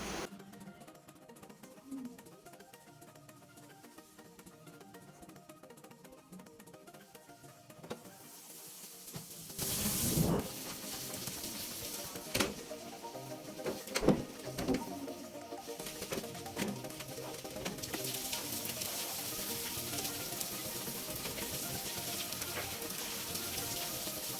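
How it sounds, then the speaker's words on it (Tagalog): Steady hiss of heavy typhoon rain, building louder partway through, with intermittent loud gusts and splashes over a constant downpour roar. "Sobrang ano na ng tubig dahil sa malakas na ulan."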